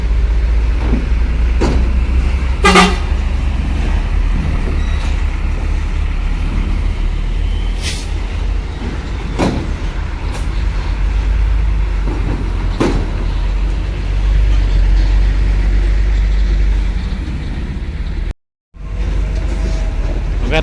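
Large trucks idle and move around the Bakauheni ferry port at night, making a constant deep engine rumble. Sharp air-brake hisses and brief horn-like bursts break through several times, with a short silent gap near the end.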